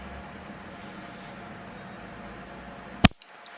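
A maple bonsai branch is cut with a single sharp snip close by, set against quiet room hiss.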